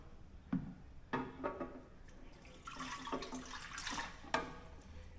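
Water poured into the pan of an Anko bread maker, a faint splashing trickle with a few sharp drips and clinks, close by in a quiet kitchen.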